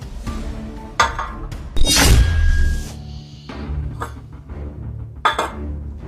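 A glass of water clinks and thuds as it is set down on a hard surface, with a couple of further knocks afterward in a quiet room.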